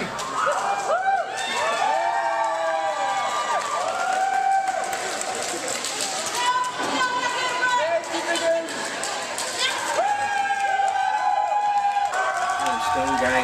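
Loud arena crowd at a wrestling show cheering and yelling continuously as security man Ross sweeps the ring, with many shouting voices and steady roar throughout.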